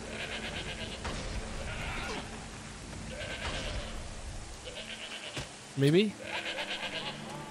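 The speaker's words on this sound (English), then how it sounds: "Oh, we got a goat." Goat bleating in the video game Shadows of the Damned, a short wavering bleat rising over game music and ambience near the end, with people talking over the game throughout.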